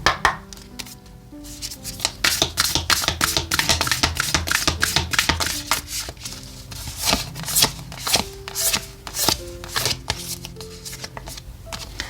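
Oracle cards shuffled by hand for a weekly tarot reading: a long run of rapid, crisp riffling and slapping card sounds, close and fairly loud, with brief pauses and no talking.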